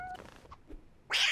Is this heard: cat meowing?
yes